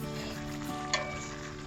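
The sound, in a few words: crab curry simmering in oil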